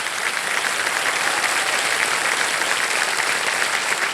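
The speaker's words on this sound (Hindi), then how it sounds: "एक बार जोरदार तालियां बज जाएं इनके लिए।" Loud, sustained studio audience applause for a contestant on the game show Kaun Banega Crorepati, a thick wall of clapping that holds evenly throughout.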